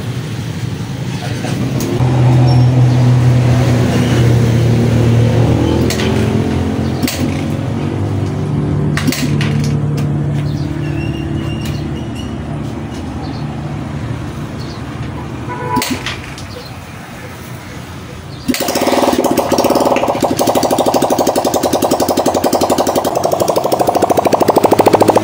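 Honda CRF150 motorcycle engine idling with its exhaust removed during an oil-leak repair, a steady loud mechanical run throughout with a brief dip and a harsher, brighter stretch near the end.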